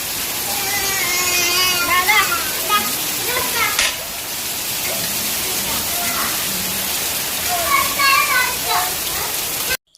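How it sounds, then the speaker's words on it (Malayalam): Heavy rain pours in a steady, dense hiss, close and loud throughout, with voices and faint child-like chatter mixed in beneath the downpour. "നല്ല മഴ."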